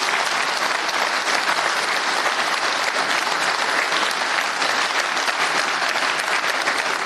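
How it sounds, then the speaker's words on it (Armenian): An audience applauding at a public gathering, dense uniform clapping from many hands holding steady and loud for the full stretch. "խնդրում եմ ծափահարություններ իրեն"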